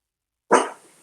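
A single excited dog bark rings out close and loud, one sharp burst that fades quickly, set off by people walking past.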